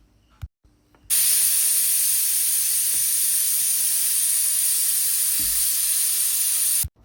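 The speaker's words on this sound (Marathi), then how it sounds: "कुकरची सुरुवातीला एकच शिटी काढून घ्यायची आहे ती शिटी आपली झालेली आहे" A pressure cooker cooking jaggery lapsi lets out its whistle as a loud, sustained, steady hiss of escaping steam lasting about six seconds before cutting off abruptly.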